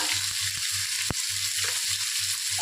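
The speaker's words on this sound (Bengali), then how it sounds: "একটু জিরে আমি ফোড়ন দিয়ে নিয়েছি" Dry red chilli and cumin seeds tempering in hot oil in a wok, a continuous close sizzle with a low hum beneath and one sharp clink partway through, no talking.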